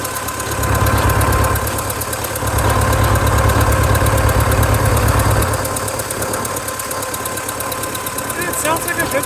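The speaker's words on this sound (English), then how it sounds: "It's idling at a decent RPM as well." A Case 430 tractor engine idles steadily with a low, throbbing rumble and a faint mechanical knock, holding an even pace throughout.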